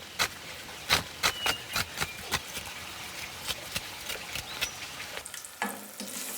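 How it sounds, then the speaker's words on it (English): Pre-boiled taro roots deep fry in hot oil, giving a steady sizzling hiss broken by a regular series of sharp pops and crackles, close and fairly loud, settling quieter near the end. "Auricia deep fries the pre-boiled tubers until they're golden brown."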